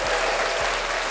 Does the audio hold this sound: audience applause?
yes